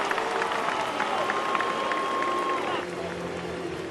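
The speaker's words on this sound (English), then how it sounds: "Crowd chanting Newt" A baseball crowd at a New York Yankees versus St. Louis Cardinals game chants for Nootbaar, a steady roar of many voices underneath play-by-play commentary.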